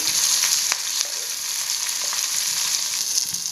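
Steady, crackling sizzle of garlic frying in hot coconut oil with curry leaves, ginger and chilli, small pops and spatters throughout, no voices.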